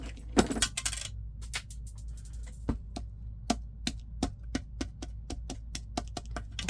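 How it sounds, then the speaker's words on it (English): A small button falls and bounces across a room, several sharp clicks at first and then a long run of evenly spaced taps as it skitters away, close and clear. "That button went flying."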